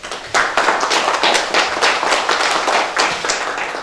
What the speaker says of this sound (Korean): 16일 동안 애쓰신 우리 선수들에게 큰 박수를 보내겠습니다.